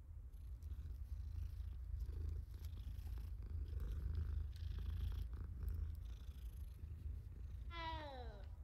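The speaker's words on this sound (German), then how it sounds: "Oh, Moment, hier ist eine Katze." A cat in Hogwarts Legacy purrs in a soft, steady low rumble, ending in a brief rising meow, with no talking.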